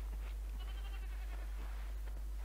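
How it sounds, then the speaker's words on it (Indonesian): A goat in New World bleats in a few wavering, nasal cries spread across the moment, heard over a loud, steady low hum with no talking. "Di sini nggak ada momon, cuman ada kambing aja."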